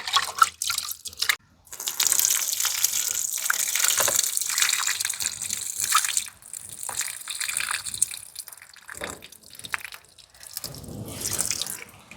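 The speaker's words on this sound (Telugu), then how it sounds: "ఇప్పుడు నానబెట్టడం కోసం కొద్దిగా నీళ్లు పోస్తున్నా." Water pours from a tap into a pot of washed lentils set to soak for mutton haleem, a steady close gushing splash with brief breaks and dripping near the end.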